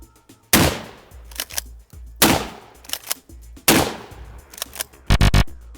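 Three loud, booming pump-action shotgun blasts at a paper target, spaced about a second and a half apart, each followed by mechanical clacks, then a rapid burst of sharp cracks at the end.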